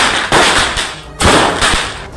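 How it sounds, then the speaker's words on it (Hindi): Celebratory fireworks in Pune at night: sharp loud bursts and crackling explosions come in quick succession, with a brief lull in between. "पुणे में तो इतनी आतिशबाजी हुई कि आसमान में रोशनी छा गई।"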